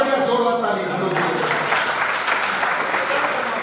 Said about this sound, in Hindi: बहुत बढ़िया, जोरदार ताली।